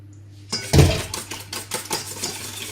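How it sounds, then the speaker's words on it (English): A whisk clatters and scrapes against a bowl while milk is mixed in for bread and butter pudding, a sharp knock followed by a quick, rhythmic series of metallic strokes, close and alone. "Whisk it. Then mix in the milk."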